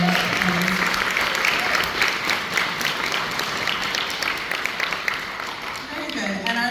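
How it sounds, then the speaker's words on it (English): A crowd at a summer band camp concert in Plymouth applauds the camp mentors, a dense steady wash of clapping throughout, with voices audible beneath it near the end. "can I have a round of applause for our mentors?"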